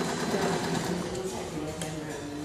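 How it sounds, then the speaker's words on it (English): A sewing machine runs continuously, stitching a seam around the outside edge of fabric, a close steady mechanical whir with a voice talking over it. "So we've come back to the machines and we're sewing right around the outside."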